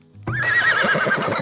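Horse neighing in the strategy video game Farthest Frontier, one loud, close whinny that shakes and trails off with faint hoof clip-clops behind it.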